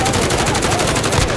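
Rapid automatic gunfire crackles in Call of Duty: Modern Warfare, a dense, loud burst of repeated shots filling the whole moment.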